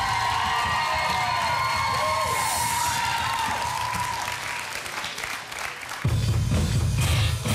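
Audience applause with cheering and whoops fills a children's talent contest finale for a numbered contestant, steady and loud throughout, with a surge of crowd noise near the end.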